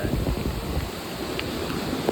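Wind blowing hard at sea during a rainy fishing trip, a constant rough rush and rumble buffeting the microphone, with no voices.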